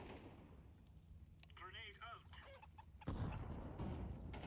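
A Counter-Strike 2 chicken gives a quick run of clucks mid-clip over steady in-game ambient noise and rumble. A louder burst of game sound follows.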